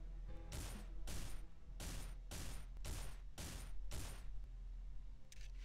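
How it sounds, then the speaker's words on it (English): Gunfire from hostiles in the video game Survivalist: Invisible Strain: about seven evenly spaced sharp shots crack at a moderate distance, with a fainter one at the end, over a low steady hum. "They're shooting close now."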